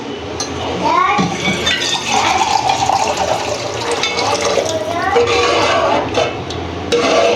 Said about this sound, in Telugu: ఇప్పుడు దీనిలో మీకు పులుసుకు కావాల్సినంత అయితే నీళ్ళు పోసేసుకోండి